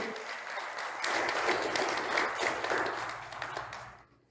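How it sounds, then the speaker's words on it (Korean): Audience applause at a lecture event in Dangjin, a dense wash of clapping that swells after the first second, holds steady, then fades out near the end. "한 번 더 크게 박수 부탁드리겠습니다"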